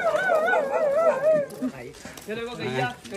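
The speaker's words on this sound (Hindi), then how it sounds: "ये देखो ये छोटा सा भौंक रहा है भाई" A small village dog near Kanpur whines in wavering cries, then gives sharp yipping barks close by while people talk nearby.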